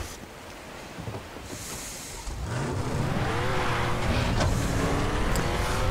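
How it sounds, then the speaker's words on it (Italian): Sports car in Far Cry 3, its engine building from a low rumble into a loud, rising acceleration roar with gear changes and a faint tire squeal, no voices. "Minchia se corre sta macchina."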